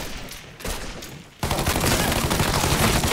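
Video game gunfire, sparse bursts at first and then a sudden sustained barrage of rapid shots that stays loud to the end.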